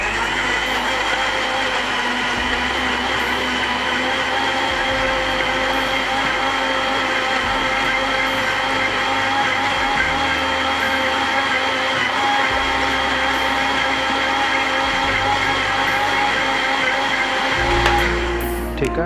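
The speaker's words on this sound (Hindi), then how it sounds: "पहले इसको हम ब्लेंड करेंगे।" A kitchen blender whirs continuously as it blends bananas with sugar and milk, a steady loud motor drone with slight shifts in pitch as the contents churn, running alone without voices.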